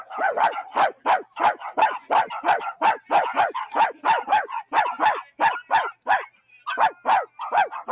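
A man barks like a dog at fans in Denmark, his voice imitating a dog with a rapid, steady run of loud, close, yelping barks and only brief pauses.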